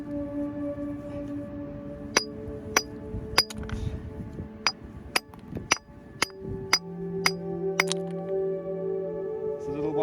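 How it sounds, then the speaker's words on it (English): Sharp metallic clinks of a hammer striking and splitting rock while fossil hunting on the Jurassic Coast ring out at a steady, deliberate pace, over a low background hum. "Let's tap through the rock with the hammer."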